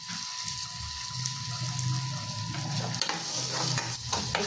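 Food with butter is stirred in a pan on a live cooking show, with soft scraping and a low sizzle, faint and continuous with a steady hum.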